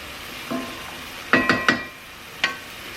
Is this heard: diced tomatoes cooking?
yes